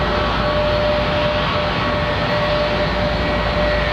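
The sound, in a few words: Boeing 757 jet with Rolls-Royce RB211 engines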